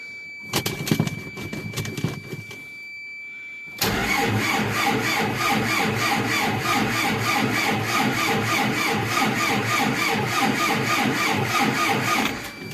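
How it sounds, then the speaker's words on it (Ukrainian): Cold MTZ 892.2 tractor engine cranking without starting: a few uneven clattering turns, a brief pause, then a long steady starter grind with rhythmic chugging that never catches, loud and close. "Холодний не заводиться."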